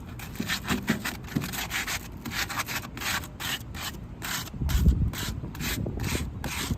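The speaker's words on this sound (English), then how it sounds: "take a piece of aluminum foil, ball it up, and just go" A ball of crumpled aluminum foil scrubbed back and forth along the grooves of a grill grate, steady close rhythmic rasping strokes with a crinkly metallic scrape, heard alone without talk.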